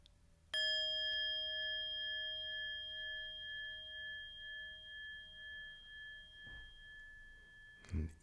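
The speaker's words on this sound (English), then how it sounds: "this is the bell that I use. It's a hanging bell." A hanging meditation bell is struck once, giving a clear bright ring that sustains and slowly fades with a gentle wavering; a faint knock and a soft thump follow near the end.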